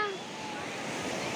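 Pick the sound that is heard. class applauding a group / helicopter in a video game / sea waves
sea waves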